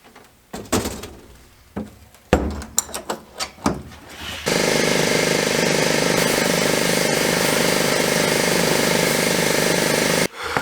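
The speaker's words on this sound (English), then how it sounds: "Now that I've got this sandblasted and all cleaned up" A loud, steady hissing blast of a sandblaster cleaning a metal turbocharger part, running continuously for several seconds, preceded by clunks and handling knocks, then cutting off abruptly.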